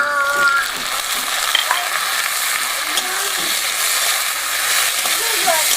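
Onions frying in a pan for a chicken roll filling give a loud, steady sizzling hiss up close, broken by soft stirring scrapes, with brief faint voice-like tones early on.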